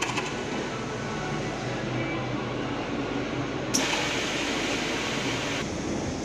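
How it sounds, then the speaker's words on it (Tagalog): A steady, broadband mechanical whir of a vacuum machine runs throughout, with a brief louder hiss partway through. "Vacuum yan, vacuum."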